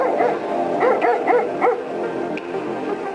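Two dogs bark and yelp at an abandoned construction site, a rapid run of close barks for the first two seconds that then thins out into quieter background noise.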